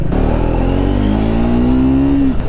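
A Triumph Speed 400 motorcycle is ridden on a wet road, its loud exhaust note climbing steadily in pitch through one sustained rev before cutting off abruptly near the end, close and unaccompanied by talk.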